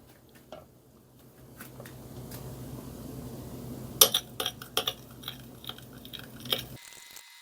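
A spoon works through an oil-based homemade leather dressing with d-limonene in a bowl: soft scraping at first, then a cluster of sharp metallic clinks against the bowl's side, close and fairly quiet.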